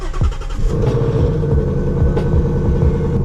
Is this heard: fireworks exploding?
no